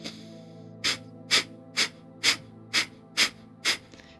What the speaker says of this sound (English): I'm going to guide us through a couple rounds of Kapalabhati breathing or breath of fire